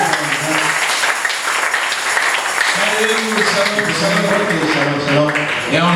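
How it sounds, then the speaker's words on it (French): A church congregation applauds continuously in a dense wash of clapping, with voices talking and calling out over it throughout. "Applaudissez pour le Seigneur."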